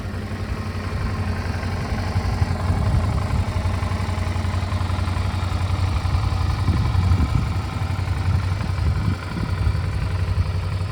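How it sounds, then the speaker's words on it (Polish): A 2010 Suzuki DL650 motorcycle engine idles steadily and evenly, a low continuous rumble with a slight mechanical rattle, close by and with no voices. "Jak widać silnik pracuje bardzo ładnie, bo to trzyma równiutko."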